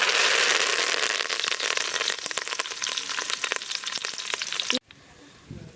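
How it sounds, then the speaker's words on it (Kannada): Curry leaves dropped into hot cooking oil for tempering: loud, steady sizzling and crackling, dense popping throughout, cutting off abruptly near the end to a quiet room. "ಒಗ್ಗರಣೆಗೆ ಕರ್ಬೇವು ಹಾಕೊಳ್ತಾ ಇದ್ದೀನಿ"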